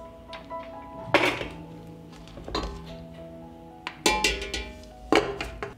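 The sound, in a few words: glass jars placed into pressure cooker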